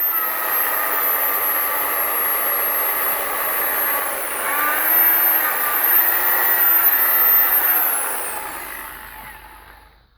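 An electric drill runs with a polishing pad on a car headlight lens, a steady whining drone that holds throughout, rises slightly in pitch midway, then winds down and fades at the end.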